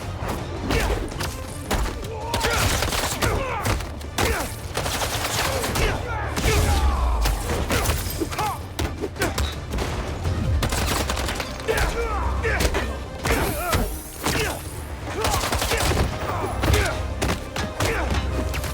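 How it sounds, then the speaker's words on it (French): Rapid bursts of fireworks going off in the Spider-Man 2 video game, a dense, loud run of cracks and thuds that continues throughout with barely a pause. "Les feux d'artifice."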